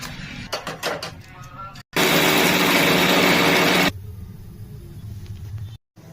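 Mixer grinder jar whirs loudly for about two seconds, grinding peanuts, sesame seeds, coriander seeds, chili powder and salt, a steady harsh motor roar after some handling knocks, then stops abruptly.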